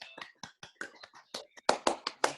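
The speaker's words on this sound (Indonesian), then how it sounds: "Oke, jadi guys, tepuk tangan sekali lagi buat Gary yuk." A few people clapping on a Zoom call, sparse separate claps in an uneven rhythm that get louder toward the end, close and dry, with no talk.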